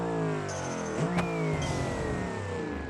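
A car engine in the video game BeamNG.drive starts and hums steadily, then revs up sharply around one second with a rising whine and settles back into a steady drone.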